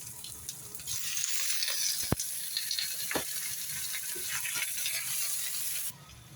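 Pork frying with garlic and onion in a pan while being stirred continuously until browned, a steady close sizzle broken by occasional scraping and clinking of the spoon against the pan, with no one speaking.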